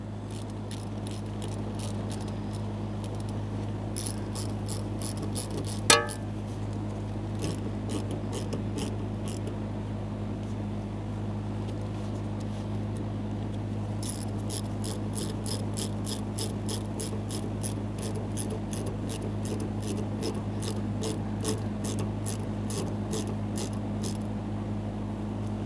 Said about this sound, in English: I'm going to continue on with 2 clamps and we'll make sure those are tight.